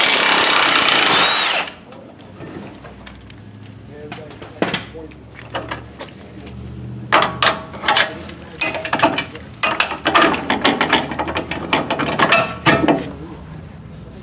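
A wrench removes 13/16 bolts while a Chevy Silverado rear lift kit goes in, starting with a loud burst of power-tool whirring and then giving way to irregular clicking and clanking metal strikes close by.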